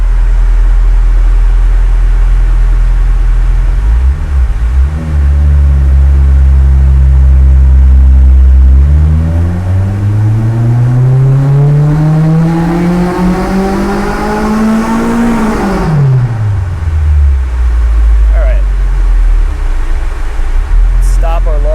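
Naturally aspirated Honda K24 with individual throttle bodies on a dyno, idling loudly, then climbing in one long full pull to a high-revving wail before abruptly dropping back to idle over a fan's roar.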